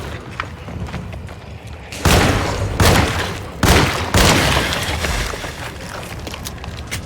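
Pistol gunshots in a dark mausoleum video game: several loud, sharp booming shots in separate bursts with echoing tails, over a low ambient rumble and no talk.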